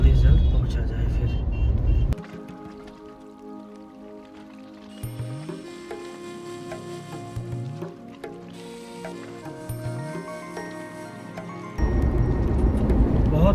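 Steady hum of a car's engine and tyre noise from inside the cabin on a double-lane highway in India, loud rumble at start and end with quieter droning stretches between, under someone talking.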